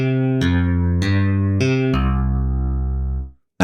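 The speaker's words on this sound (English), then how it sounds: "so this is a pretty good use of a wavetable to create a decent electric bass sound" A wavetable electric bass patch with chorus on the Reason Thor synthesizer plays four plucked notes in quick succession, then holds a final note that rings out and fades to silence.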